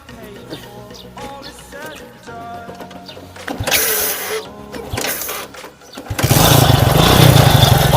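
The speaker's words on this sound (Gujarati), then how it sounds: "સૌથી પહેલાં હું તમને બાઇક ચાલુ કરીને સાઉન્ડ સંભળાવું" A motorcycle engine with its stock silencer idles and revs, its steady rumble swelling into a loud, continuous roar toward the end.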